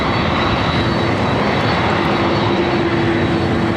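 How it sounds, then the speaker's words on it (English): A Delta Boeing 767-400ER on Flight 939 to JFK roars at takeoff, a loud, steady broadband engine rush filling the whole stretch without any speech. "This is Flight 939, taking off to JFK."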